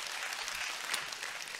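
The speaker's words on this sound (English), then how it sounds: "Give the Lord a hand clap of praise about that." A church congregation claps in praise, a steady, even patter of many hands that sounds somewhat distant and fills the room without any talking.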